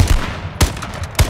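Three sharp sniper rifle shots in the H1Z1 battle royale game crack out about half a second apart, each a loud broadband burst with a short tail, fired close by.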